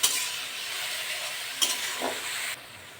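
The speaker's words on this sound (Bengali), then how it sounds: "আদা রসুন দিয়েছি, একটু ভাজা ভাজা করে দেবো।" Ginger-garlic paste fries in a pan with onion and green chili for a potato chicken curry, a close, loud hissing sizzle with stirring scrapes and a spoon knock before the sizzle suddenly drops away.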